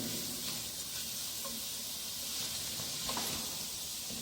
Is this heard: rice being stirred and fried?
yes